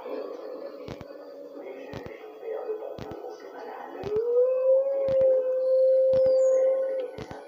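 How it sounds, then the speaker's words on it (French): A companion dog in the Far Cry 5 video game lets out a long, rising then sustained howl in the second half, preceded by lower growling and game noise, with sharp periodic clicks or hits throughout and no talk in the clip. "mon petit chien d'amour, mon petit Boomer, va t'attaquer à lui."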